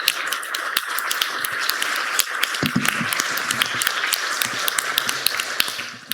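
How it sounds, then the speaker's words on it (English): Audience applause for conference presenters at the close of a session in an auditorium, a steady spread of many hands clapping that holds for the whole stretch at moderate level, with no talking over it. "So a round of applause for all the presenters."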